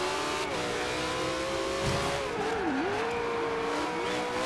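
A hypercar engine revs hard in the racing game Forza Horizon 2, a sustained loud roar that rises and dips through gear changes, with faint tire noise and no talking.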